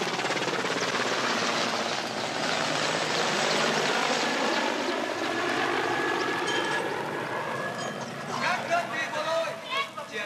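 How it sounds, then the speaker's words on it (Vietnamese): Military aircraft passing overhead during wartime, a loud sustained roar that swells and slowly fades, with a voice calling out an alert near the end. "chú ý, có máy bay đi."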